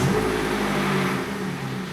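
An Opel Corsa D engine with a full straight-pipe exhaust runs at a steady, loud idle with a deep throaty rumble and a slight rev at the start.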